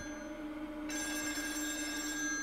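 A telephone rings in Still Wakes the Deep, a video game set on an oil rig; a steady electronic bell starts suddenly partway through and keeps ringing evenly, fairly quiet, with no voices over it.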